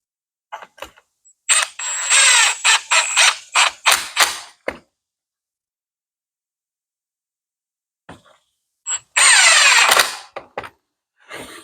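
A cordless power drill drives 2.5 inch wood screws with washers through scrap-wood table legs, two bursts of whirring with brief clicking starts, separated by several seconds of silence.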